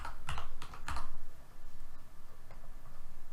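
A short code is typed on a computer keyboard: several quick, close key clicks in a rapid burst, then a few more scattered taps, clear and alone with no talk.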